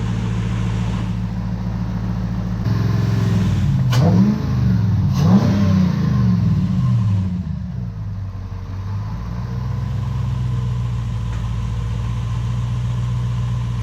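A Nissan VK45 V8 fitted in a D22 Navara ute, running on a Link Xtreme ECU, revs up in two or three sharp blips from a steady idle, then settles back to a smooth idle, loud and close with no talking.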